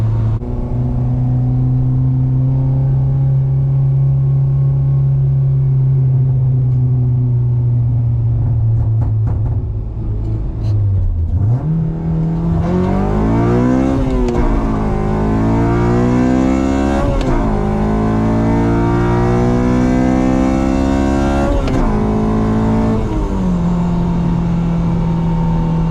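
A Honda Civic Si fitted with a PLM V1 header makes a hard acceleration pull, the loud engine note climbing in pitch through repeated rising sweeps with no talking over it.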